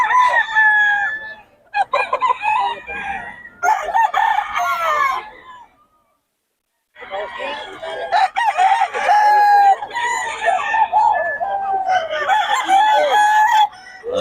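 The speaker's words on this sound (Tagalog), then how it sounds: "solid mga manok ng Boss Batang" Several roosters crow loudly and repeatedly with clucking between calls, from a flock of all-black Mac Rae gamefowl, with a brief quiet gap in the middle.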